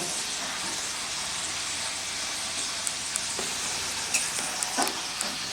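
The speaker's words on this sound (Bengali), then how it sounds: "এবার আমি পেঁপেগুলো হালকা করে এই তেলে একটু ভেজে নেব।" Papaya pieces fry gently in hot oil, giving a steady, dense sizzle that runs close and unbroken throughout, with a few light clicks from stirring near the end.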